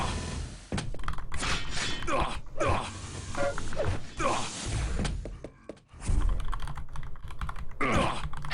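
Fast, clattering keystrokes on a computer keyboard, close and continuous in dense bursts with a few short pauses and no talk.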